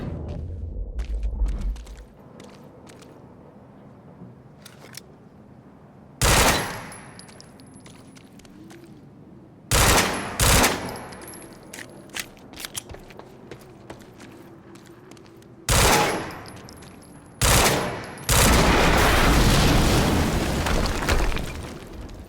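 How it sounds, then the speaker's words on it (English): Gunfire and explosions in the video game Quantum Break: several loud broadband blasts and bursts land at intervals over quieter game ambience, with a long sustained roar near the end. "HQ, we just heard an explosion near the harvesting perimeter."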